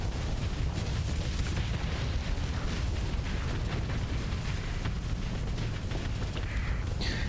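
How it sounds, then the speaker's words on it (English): Missiles explode during Starsector space combat, the overlapping blasts merging into a dense, continuous roar that stays loud and unbroken throughout. "Look, missiles."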